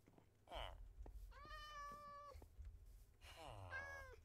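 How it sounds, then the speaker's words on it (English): Cats meowing in the video game Minecraft: two drawn-out, tonal meows in close succession, fairly clear against a quiet background, with no talking. "There's the cats."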